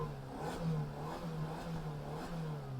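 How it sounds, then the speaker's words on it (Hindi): A car engine idles and revs in steady low pulses at a roadside pollution-under-control check, close and continuous with a mechanical clatter. "मैं गाड़ी स्टार्ट कर रहा हूँ"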